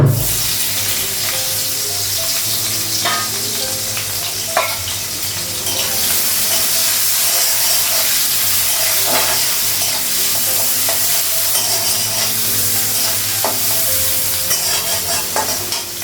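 Green chili and onion sizzle and fry steadily in a pan, a continuous loud hiss with occasional stirring scrapes and clinks close by, with no talk.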